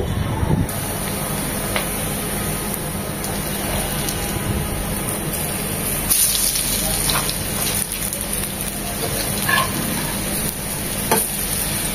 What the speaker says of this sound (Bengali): আস্তে আস্তে মিডিয়াম টু লো হিটে 4 থেকে 5 মিনিট ওর পাশটা ভাজা হবে।